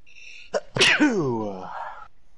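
A single loud, close sneeze with a short sharp intake of breath just before it, heard alone in a quiet room during a live PS4 gaming stream.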